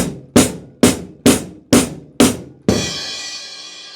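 Six evenly spaced crashing hits of hi-hat, snare and bass drum struck together in a quarter note triplet, then a final sustained cymbal wash, loud and close with no talk.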